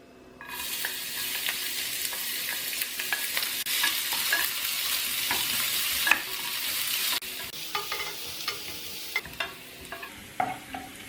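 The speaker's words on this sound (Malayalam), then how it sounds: "ഇനി ഇതിലേക്ക് ആദ്യം അരിഞ്ഞു വെച്ച് സവോള ചേർത്ത് കൊടുക്കാം." Chopped onions fry in hot oil in a pan for a chicken omelette, giving a loud, steady sizzle throughout, with stirring scrapes and clatters of the spoon against the pan in the second half.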